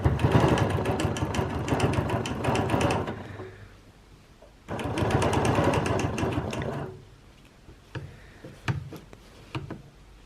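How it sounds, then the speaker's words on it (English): A sewing machine runs edge-to-edge quilting designs with rulers, stitching loudly in two sustained bursts of rapid mechanical whirring separated by a pause, then a few isolated clicks and taps as it stops. "And then let's start quilting and see what that looks like."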